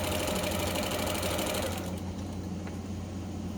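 Sewing machine stitching a heavy quilt diagonally from corner to corner, a steady loud mechanical whir with rapid even needle rhythm that drops off partway through, leaving a quieter hum.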